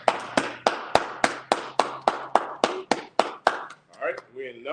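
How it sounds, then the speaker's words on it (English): A congregation at a Sabbath service claps in a steady rhythm, about a dozen sharp, loud claps in a row over a low hum, then stops as a voice begins speaking. "Go ahead, clap it up."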